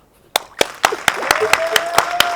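Audience applause begins with a few sharp, evenly spaced claps, steady and rhythmic like one or two people clapping in time, with a voice talking faintly underneath.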